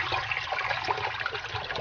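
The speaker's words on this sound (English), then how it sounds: "Some water coming." Water running through the check valve of a skimmer pump on a koi pond being winterized, a steady rushing, gurgling flow close by that carries on without pause for under two seconds.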